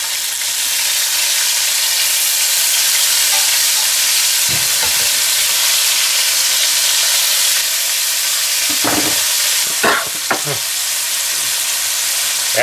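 Chorizo burger patties sizzle in a hot pan right after being flipped, a steady loud frying hiss with a few brief scraping clatters of a spatula near the end.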